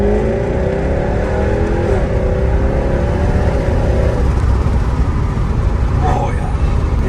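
A Jaguar F-Type R engine revs hard and climbs in pitch through the gears, loud and close inside the car, with a busy rumble underneath.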